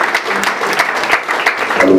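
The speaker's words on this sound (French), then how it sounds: "applaudissez le Seigneur" A church congregation applauds during worship, a brief, dense patter of many hands clapping close by, with faint voices underneath.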